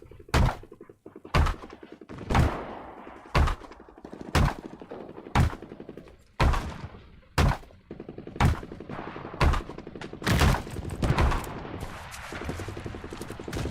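Rapid bursts of gunfire in a multiplayer shooter video game, a dozen or so sharp, loud shots and short volleys spaced about a second apart over steady game background noise.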